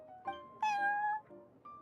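A cat meows in the Genshin Impact video game, a few short tonal calls with one long drawn-out meow in the middle, close and clear with no talking.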